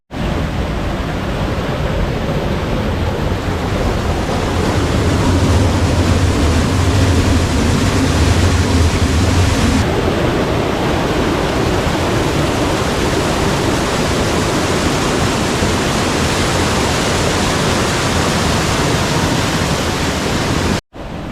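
Chilanthiyar waterfall in a hill village among orange groves, a loud, steady broadband roar of rushing water that fills the whole stretch without pause.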